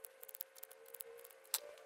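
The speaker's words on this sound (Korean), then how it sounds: "1단에다가 가위밥을 주십니다" Scissors snipping small notches into the seam allowance of fabric while sewing a reversible bucket hat, a string of quick, faint metallic clicks close by with no talking.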